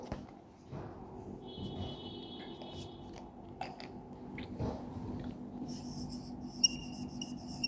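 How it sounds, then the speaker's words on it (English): Chalk or a marker taps and scratches on a classroom board in a series of quiet, close strokes, with faint squeaks and short pauses between them and no speech. "writing that on the board"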